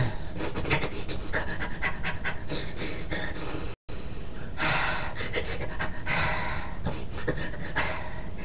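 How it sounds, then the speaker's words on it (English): A person demonstrates cathartic breathing with rapid, heavy panting, loud and close, in a steady fast rhythm of in-out breaths with one brief pause partway through. "So cathartic breathing is like this."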